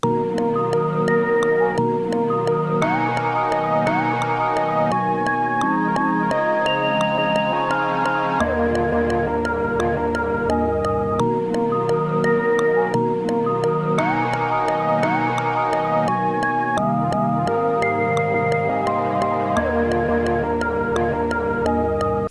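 A chopped sample, pitched down three semitones and rearranged into a new chord progression, loops as sustained layered chords with gliding tones and a faint ticking pulse, steady and alone.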